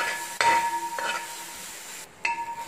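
Metal scrapes in short strokes as roast is stirred in a heavy traditional pot, a few close grinding passes with brief pauses between them and a faint sizzle underneath.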